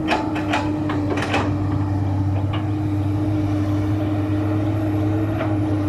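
A Komatsu PC200-7 excavator's engine runs steadily at close range, a constant low drone and hum with a few brief clanks and ticks early on, and no voices.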